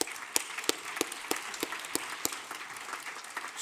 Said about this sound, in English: I think we all owe a big round of applause to all these great speakers